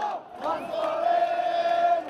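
A protest crowd roars and cheers in a sustained wall of voices, one shout holding a long high note, as people rush toward Pearl Roundabout after police withdraw.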